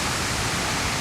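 Steady, dense roar of falling water from a waterfall at a Washington, DC memorial, a continuous broadband wash holding even for the whole moment with no voices over it.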